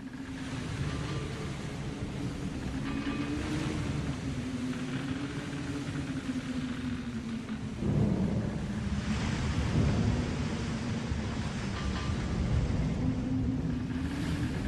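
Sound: storm at sea with thunder and waves

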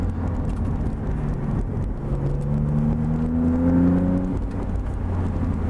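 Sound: Maserati MC20 Cielo turbo, roof off

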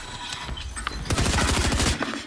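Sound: gunfire in a video game

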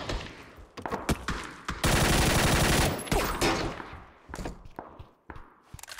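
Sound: gunfire from a bot shooting, in the video game PUBG

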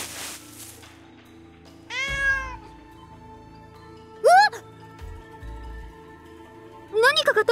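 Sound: cat meowing, from a video game

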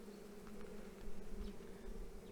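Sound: honeybees buzzing at hive frame

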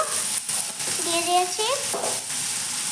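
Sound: vegetables frying in pan with tomato and turmeric

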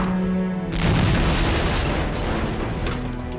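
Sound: tank cannon shot in video game Panzer Tactics HD

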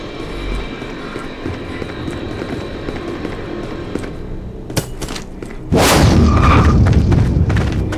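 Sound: null cannon firing at MCC in video game Dust 514

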